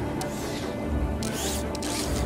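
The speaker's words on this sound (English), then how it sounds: "Commencing spray. Please stand back." A spray machine in the video game Beyond a Steel Sky releases a steady, loud hiss of spray for about two seconds, with brief brighter bursts.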